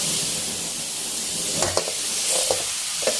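Catfish stir-fried with red curry paste in a pan over high heat gives a steady close sizzle, with a few brief spatula scrapes and stirring clatters near the end.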